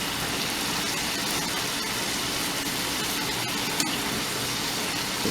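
Cooked Philly cheesesteak meat is tossed in a hot pan, giving a steady, loud, close hiss of frying that runs unbroken throughout.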